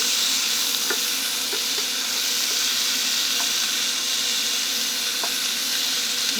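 Sweet peppers sizzle and fry steadily in a hot pan, a continuous close crackling hiss with occasional small pops and utensil taps throughout.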